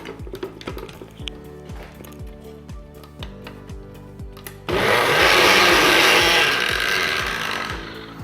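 A kitchen blender purees cauliflower with rosemary and milk, first in short choppy pulses that settle into a steady, loud, continuous whir that runs on for several seconds, close by and without talk.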